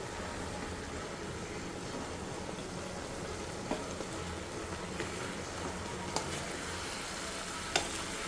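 Chicken pieces frying in a covered pot for a homemade Sunday special, giving a steady, even sizzle with no break and a few faint clinks of utensils or the lid, close and alone without voices.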